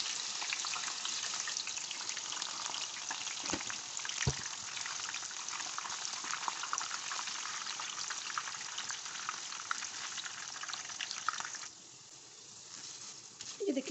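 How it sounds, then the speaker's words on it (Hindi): Mash (urad) lentils fry in oil for homemade mixed nimko, a steady crackling sizzle with a couple of sharp knocks partway through, easing off briefly near the end before picking up again. "इसी ऑयल में जो है ना हम ये सारी दालें फ्राई करेंगे"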